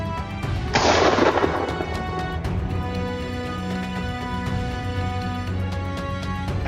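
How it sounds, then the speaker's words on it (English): A single sharp gunshot rings out in woodland during a wild boar hunt, a loud blast followed by a fading rumble over a steady background of engine-like noise. "Quickly, Laurent took aim and successfully killed it with one shot."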